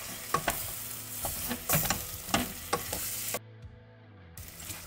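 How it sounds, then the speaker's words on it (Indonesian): Meat in its broth gets stirred in a pot, with close spoon scrapes and knocks against the pot over a soft bubbling simmer. The scrapes come in uneven bursts, and the sound cuts out briefly near the end. "Kita aduk sedikit."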